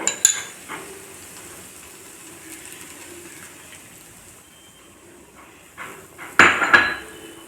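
Utensils scrape and clink against a pan while Maggi noodles are mixed with melted Dairy Milk chocolate, a few sharp metallic knocks standing out at the start and near the end over a quiet background.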